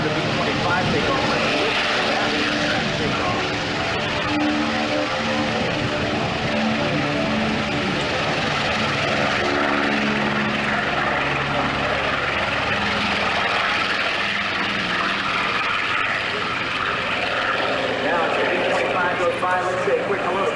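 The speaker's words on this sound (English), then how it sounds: "as we hear the B-25 take off" A B-25 bomber takes off at an airport event, its piston engines roaring with a throbbing drone that shifts in pitch as it builds and moves, while people talk nearby throughout.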